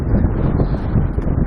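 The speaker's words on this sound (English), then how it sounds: "It's really windy out here, so you might not be able to hear me" Strong wind blows outdoors and buffets the microphone, producing a loud, steady rumble that lasts the whole moment, with no talking.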